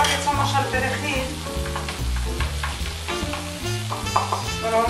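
Parsley dropped into a hot pan already frying fish and prawns, giving a loud, steady sizzle and crackle alone, with busy bursts of spattering throughout and a deep rhythmic background underneath.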